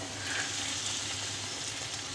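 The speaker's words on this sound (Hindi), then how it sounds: "तो इस पॉइंट पे हम ये इसका तड़का लगाएंगे" Golden fried onion tadka poured into moong dal khichdi gives a soft, steady sizzle and crackle up close, with no talk.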